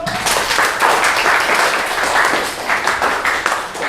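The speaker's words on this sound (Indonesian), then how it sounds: "Tepuk tangan dulu untuk Tony" Classmates applaud a student named Tony during a lesson, dense close clapping from a small group, loud and steady across the whole stretch without speech.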